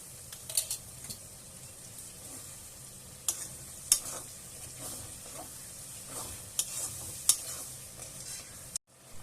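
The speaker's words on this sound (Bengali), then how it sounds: "আমার এখানে পেঁয়াজগুলো ভাজা ভাজা হয়ে গেছে এর মধ্যে দিয়ে দেবো আদা রসুন লঙ্কা পেঁয়াজ" Onions frying in a pan with ginger, garlic and chili, a low steady sizzle under scattered sharp spatula scrapes and clinks, close by with no talking, ending in an abrupt short silence.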